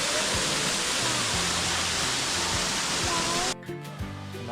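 Waterfall in the Dells area of Matthiessen State Park, Illinois, a loud, constant rush of falling water that drops abruptly near the end as a voice speaks faintly underneath.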